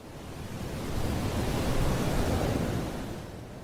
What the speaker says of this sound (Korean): 갑자기 태풍이 몰아치고 파도가 배를 삼킬 듯이 덤벼들었습니다